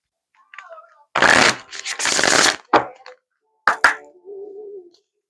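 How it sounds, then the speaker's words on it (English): A deck of affirmation cards is shuffled in two long, dense bursts, followed by a couple of short card riffles and taps, with a brief voice murmuring at the start and end. "So let's pull an affirmation card for you"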